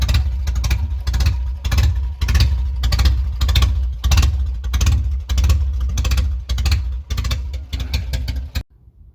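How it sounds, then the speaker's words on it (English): A 1975 MG Midget engine running with a leaking exhaust, loud and close, with a rough pulsing chug and uneven puffing bursts that continue steadily before cutting off abruptly near the end. "that is where the exhaust is leaking"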